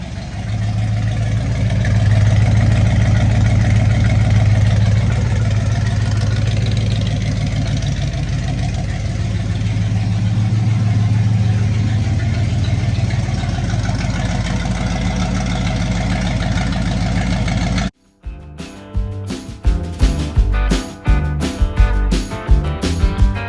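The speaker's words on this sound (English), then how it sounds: "This is the last time this truck's going to sound like this." A Ford F100 truck with a 428 engine idles loudly up close, a steady rough rumble that cuts off abruptly, followed by a few sharp clattering knocks.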